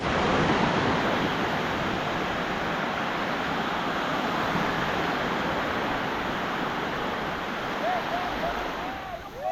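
Ocean waves wash and break in a steady, broad roar of surf at Baler, with wind noise on the microphone and no clear talking.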